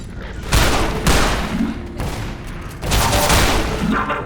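A pulse pistol in Entropy Zero 2 fires shotgun bursts, loud booming blasts arriving in repeated waves with a roaring, crackling tail after each shot.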